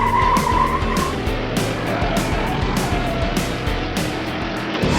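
A cartoon monster truck races with a skidding, out-of-control wheel: loud continuous engine roar with tire squeal and skidding bursts throughout, no talk.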